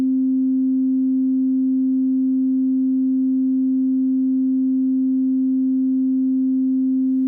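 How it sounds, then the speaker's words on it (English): A synthesizer sine wave holds a steady, pure electronic tone at one pitch without change, loud and alone, with no other sounds. "Just want the sine wave up top here."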